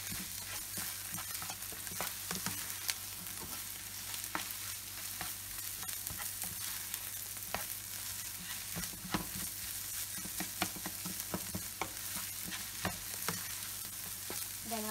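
Egg fried rice vegetables being stirred in a hot frying pan, a steady sizzle broken by frequent scraping and clinking spoon strokes at an uneven rhythm, close and fairly quiet, with no talk.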